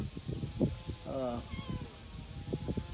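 A newborn kitten in a cage lets out a few thin, high meows, close but fairly soft, over a background of low rumbling noise.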